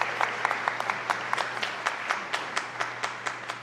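An audience at a Bowie State University Founders Day ceremony keeps up a moderate, even round of clapping, individual handclaps distinct in a medium-sized room with a faint steady hum beneath.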